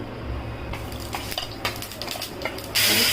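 Onion frying in hot oil in a pan, with a steady sizzle broken by scraping and clinking of a utensil stirring against the metal, and a louder hiss near the end.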